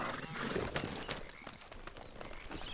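Horse hooves and a neigh in Red Dead Redemption 2: clip-clop footfalls with a brief whinny, close and moderately loud, over steady game ambience.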